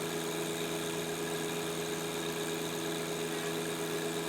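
A John Deere 2025R compact tractor runs at a steady, even drone while raising a heavy pallet of about 1,060 pounds. The engine hum is constant and close, with no talk over it.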